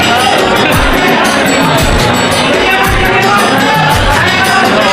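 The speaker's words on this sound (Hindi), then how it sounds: "बहुत ही भीड़ लगे।" A large crowd of pilgrims packs a temple at Turri Dham during the month of Sawan, making a dense, loud, steady roar of many voices with scattered shouts and clatter throughout.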